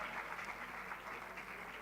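Applause at an award ceremony for Moinul Uloom Urdu schools in Aurangabad, honouring an AFMI International Award: a short, continuous wash of crowd clapping, fairly distant and even.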